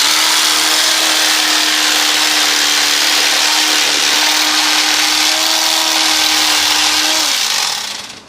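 Electric knife whirring steadily while filleting fish, a loud continuous motor buzz that runs close and unbroken for about seven seconds before cutting off.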